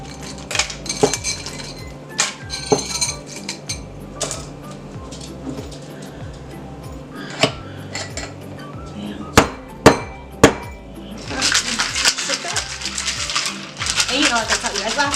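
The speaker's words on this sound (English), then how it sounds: "I'm gonna add a shit ton of ice to this because we want it to be super ice cold." Lots of ice clattering into a metal cocktail shaker for a strawberry martini: loud rattling and clinking impacts in bursts, sharp knocks midway, then a dense shaking rush near the end, with a little talk.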